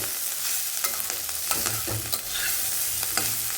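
Carrots and potatoes fry in a pan with a steady sizzle, and a spatula scrapes and stirs them at intervals, giving clicks and scuffs. No one speaks.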